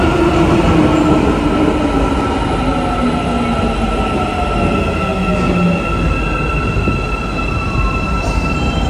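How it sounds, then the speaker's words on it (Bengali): An Istanbul metro train pulls into a station, a loud continuous rumble of wheels on rail with rising and falling squeals and a steady electric hum, heard alone and close by for the whole stretch. "যে মেট্রো চলে আসছে"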